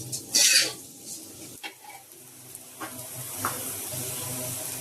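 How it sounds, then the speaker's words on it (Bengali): Rice and lentils being dry-fried in a pan for vegetable bhuna khichuri. A loud burst of stirring and sizzling at the start settles into a steady, close frying hiss with occasional scrapes of the spoon and no voices. "এখন চাল ডালগুলোকে একটু সময় নিয়ে ভালো করে ভাজবো।"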